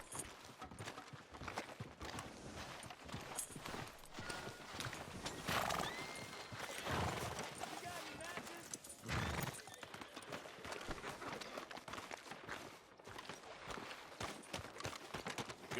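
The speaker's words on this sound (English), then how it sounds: "Tether the horse and I'll meet you across the street." Horse hooves clip-clopping and a whinny in the Western video game Red Dead Redemption 2, steady close hoofbeats with a louder neigh partway through, set against faint game ambience and no talk.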